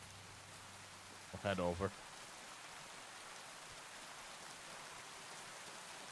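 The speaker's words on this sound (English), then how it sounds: "Really downpouring out here." Steady hiss of a heavy rain downpour fills the Kingdom Come: Deliverance II game world throughout, even and constant, with a brief spoken phrase over it near the start.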